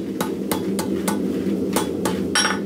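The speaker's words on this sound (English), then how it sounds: "we're just going to do hammer marks down the corners" Six or seven crisp hammer strikes land at irregular intervals over a steady low hum, close by.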